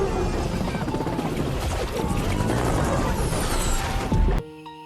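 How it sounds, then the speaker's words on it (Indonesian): A helicopter crashing into the sea in a film scene, a dense, loud roar of rotor and turbulent rumble building to a heavy impact burst before cutting off abruptly to quiet. "Mekanisme tali itu tiba-tiba meledak dan helikopter dengan cepat jatuh ke laut."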